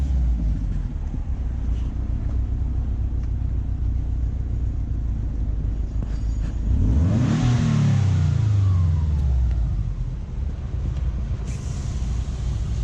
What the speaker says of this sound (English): A little Scooby rev.